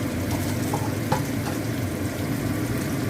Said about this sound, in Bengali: এবার কোপ্তাগুলো আমি ভেজে নেবো এক একে